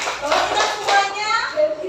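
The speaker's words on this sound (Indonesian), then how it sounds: "Marilah kita beri tepuk tangan untuk diri kita." A group of children in a classroom clapping their hands together in a short, dense burst, close and fairly loud, with a voice faintly mixed in.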